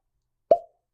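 A single short, hollow pop as the cork comes out of an Old Forester bourbon bottle, close and clear against silence.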